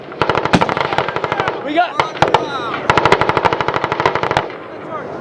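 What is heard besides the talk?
Marine Corps machine gun firing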